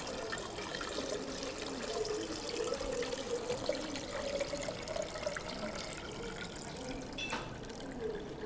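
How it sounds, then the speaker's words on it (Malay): Water is poured into a laboratory beaker for a physics experiment, filling it to the neck level of a round-bottomed flask. It makes a continuous soft gurgling trickle at moderate distance, with no talking. "masukkan air ke dalam bikar sehingga ke paras leher kelalang bulat"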